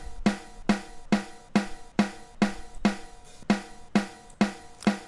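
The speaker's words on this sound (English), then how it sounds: "And this is how the snare up sounds without any plugin." A dry snare drum is struck repeatedly in a steady rhythm, about twice per second, each hit crisp and ringing briefly.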